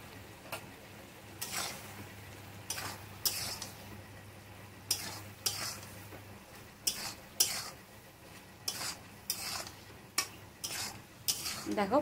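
Poppy seed paste with drumsticks and potato is stirred in a pan, a steady simmering hiss under repeated scraping strokes of a spoon against the pot, close and rhythmic, with no talking.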